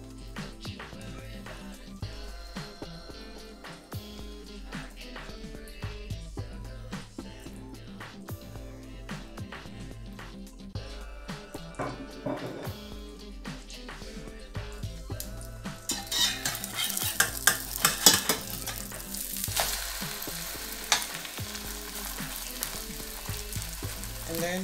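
Mushrooms frying in a pan alongside spring onion for a simple breakfast, a steady crackling sizzle with occasional utensil clinks, growing louder and brighter toward the end.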